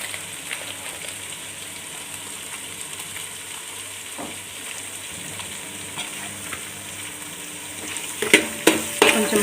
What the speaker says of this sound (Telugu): కొంచెం కలుపుకుందాం ఒకసారి.